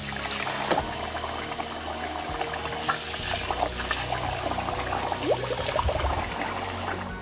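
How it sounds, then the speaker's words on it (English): Rice being rinsed in water in a pot, two or three washes to clear the dust, gives a steady close run of sloshing, trickling and pouring water with small splashes throughout, and no voice. "So first we have to wash our rice."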